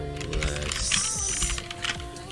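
Quick, close bursts of keystrokes rattle on a computer keyboard as a code is typed in for an anime fighting game, the clicks coming in an uneven flurry.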